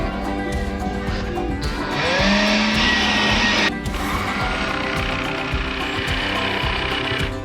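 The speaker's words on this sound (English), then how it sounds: "I do love using the jigsaw, man." A jigsaw buzzes loudly up close, its rapid reciprocating hum surging louder for a couple of seconds, then settling back to a steady cutting drone.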